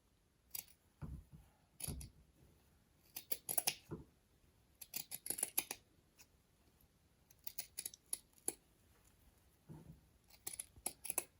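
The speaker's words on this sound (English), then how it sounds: "And we're cutting through both pieces of fabric." Scissors snip through two layered pieces of fabric during a sewing project, giving irregular clusters of short, crisp cuts with brief pauses between them, close and fairly quiet.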